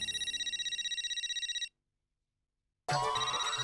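A telephone rings in the Hindi sitcom Taarak Mehta Ka Ooltah Chashmah, with a loud rapid electronic trill that stops for about a second and then starts again, with no voices.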